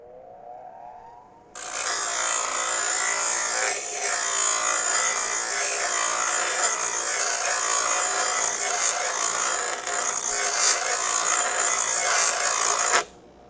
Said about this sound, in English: one more try with the old bench grinder